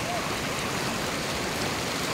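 A river stream flows in a steady, close, continuous rush of water with no breaks and no one talking.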